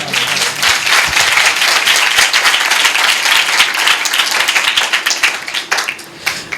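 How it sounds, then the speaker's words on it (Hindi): A church congregation at a Sunday service claps loudly and vigorously, a dense, close burst of applause that stays strong throughout before breaking up slightly at the end. "यीशु के लिए जोरदार तालियां।"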